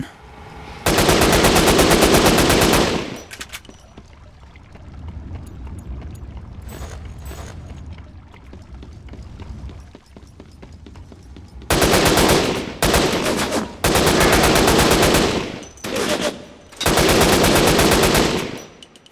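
Loud bursts of automatic gunfire from a weapon in the video game Syphon Filter: The Omega Strain, one long burst followed after a quieter stretch by several more sustained bursts in quick succession.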